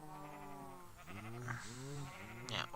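Sheep in Minecraft bleating several times in a row, wavering nasal calls, faint and close, with no talk.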